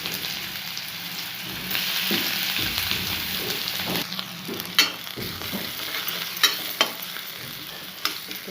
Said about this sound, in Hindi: प्याज के भल कर भाजी देली